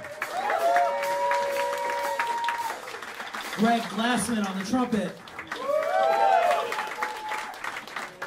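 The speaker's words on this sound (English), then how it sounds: "Please give a big round of applause to Arco Sandoval on the piano." Audience applause in a New York jazz club as a quintet's band members are introduced, a steady crowd patter under a close announcer's voice.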